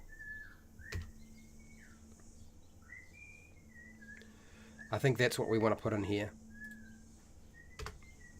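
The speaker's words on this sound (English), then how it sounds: "Oh, the whistler's whistling." Faint thin whistled phrases, short rising and falling notes repeating through the background, with someone talking over the middle stretch during a live game-master preparation stream.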